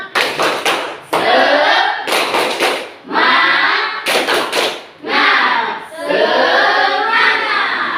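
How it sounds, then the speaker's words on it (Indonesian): A classroom of schoolchildren claps in short rhythmic bursts, loud and close, separated by brief pauses and broken by a few children's voices. "Tepuk tangan untuk kita."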